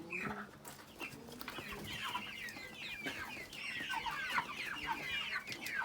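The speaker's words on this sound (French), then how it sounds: "Voilà les poulets qu'ils ont eu à conduire jusqu'ici là et qui se portent à merveille." A flock of broiler chickens at a production unit in Yaoundé, Cameroon, clucking and chirping continuously, many overlapping calls at moderate volume with no talking.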